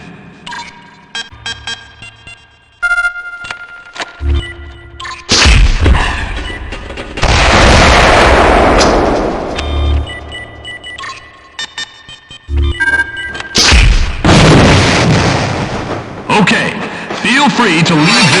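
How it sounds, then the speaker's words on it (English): Cluster bomb explosions in the video game Gunman Chronicles, several loud booming bursts with long rumbling tails, interspersed with electronic beeps and tones, while a voice talks over parts of it. "To use the cluster bomb payload against airborne targets, but it's great for clearing an enclosed area."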